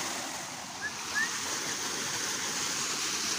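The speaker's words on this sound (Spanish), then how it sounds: "este es el primer arroyo que se van a encontrar aquí en las pilas" A flowing stream, an arroyo at Las Pilas in Ahualulco de Mercado, Jalisco, gives a steady broad rush of water, constant and fairly soft, heard alone.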